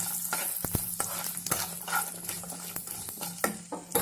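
A spoon scrapes and clacks against a pan while cashews fry and sizzle in hot oil for lemon rice, with sharp knocks standing out over a steady frying hiss.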